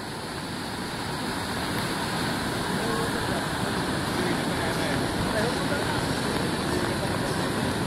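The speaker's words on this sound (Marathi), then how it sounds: "लाटा बघा कसे उसळले होत आणि तिकडं भयानक पाऊस पडता आतमध्ये समुद्रात" Heavy monsoon rain pours over a churning sea, with waves surging and crashing in a steady, dense roar. Strong wind noise on the microphone runs under it throughout.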